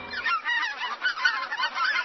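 A flock of geese honks continuously, overlapping nasal calls close by and fairly loud, with no talk.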